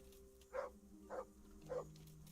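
Dog barking in the Kingdom Come Deliverance video game, three short evenly spaced barks at moderate distance over a steady low game ambience hum.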